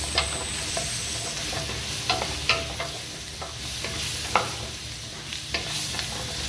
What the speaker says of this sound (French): Et on les met avec notre oignon et notre jambon cru. On fait revenir légèrement comme ceci.